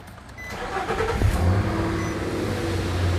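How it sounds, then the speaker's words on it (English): A car engine is cranked with the key and catches, the starter's brief whir giving way to a steady idle that settles into a continuous hum, recorded close by in a workshop with no voices. "So let's flip the key on"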